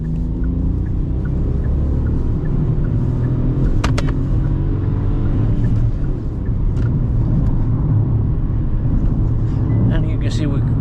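A 2025 Kia Picanto 1.0 cruising at speed on a back road, a constant loud low rumble of engine and road noise from inside the cabin, with a few faint clicks.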